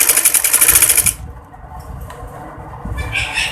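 A sewing machine runs fast and steady, stitching a double seam over tucks on a kurti. The loud rapid whirr lasts about a second, then stops, leaving quieter rustling of fabric and a brief mechanical clatter.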